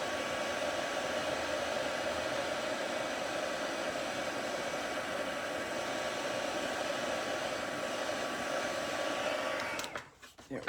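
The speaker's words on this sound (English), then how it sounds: "And now my heat tool. I'm going to warm it up a little bit here." An embossing heat tool blows a steady, loud, hissing roar of hot air while melting embossing powder on a handmade card, cutting off abruptly near the end.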